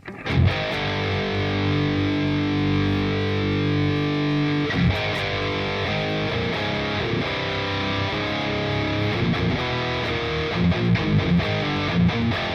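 Electric guitar played through a Hyper Fuzz distortion pedal preset, thick sustained fuzzy chords ringing loud and steady, then choppier palm-muted riffing with sharp attacks toward the end, no voices.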